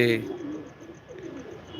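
Pigeons cooing inside a loft, a soft, low, throaty murmur that rises and falls steadily, close by and fairly quiet.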